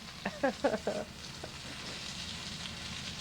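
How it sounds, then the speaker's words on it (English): Steady crackling sizzle of food frying in a pan, with a brief burst of someone talking near the start over the hiss. "You start hearing that noise level coming up, in the pan."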